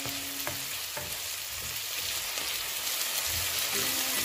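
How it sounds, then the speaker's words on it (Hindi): Sliced tomatoes fry in a pan with a steady, close sizzle, punctuated by a few soft stirring knocks and scrapes; no one speaks. "अब इसमें शामिल करेंगे स्लाइस में कटे हुए टमाटर और इसे अच्छी तरह से हम थोड़ा सा फ्राई करेंगे।"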